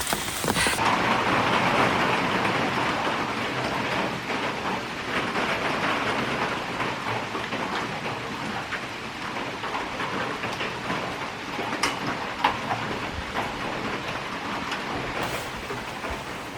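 Heavy rain pours steadily during a storm on a hike, a dense continuous hiss of drops hitting surfaces close by, with no one speaking throughout.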